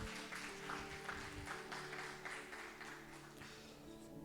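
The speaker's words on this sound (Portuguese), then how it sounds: "Palmas pro Fê" A small group applauds a participant in an indoor session, soft, fairly distant clapping that fades slightly toward the end.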